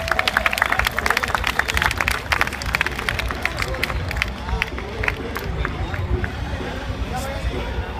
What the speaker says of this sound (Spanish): Démosle un fuerte aplauso y gracias nuevamente.